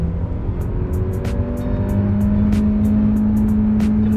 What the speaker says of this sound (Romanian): Se aude foarte plăcut motorul și limitatorul de viteză, de turație